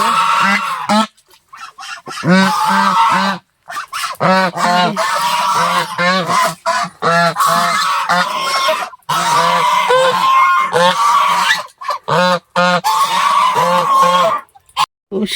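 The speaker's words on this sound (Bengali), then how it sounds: "রাজহাঁস, দেখো" Geese honk loudly and repeatedly at close range in a park garden. Bursts of overlapping calls come in quick runs, separated by short pauses.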